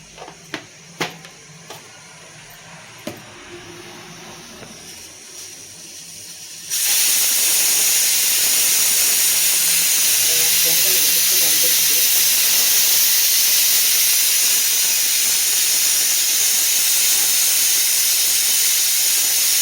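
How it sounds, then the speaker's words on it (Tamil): Mustard seeds spluttering in hot oil for a Tamil lunch of knol-khol kootu and okra poriyal: a few sharp pops at first, then a sudden loud, steady crackling hiss that continues to the end. "கடுகு வந்து பொரியட்டும்"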